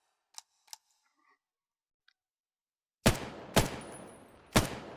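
Three loud, sharp gunshots from a rifle in the VR shooter Vail VR, evenly spaced about half a second apart with ringing tails, after a few faint clicks of weapon handling in near silence.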